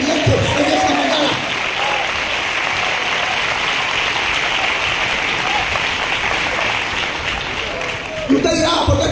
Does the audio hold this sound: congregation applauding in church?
yes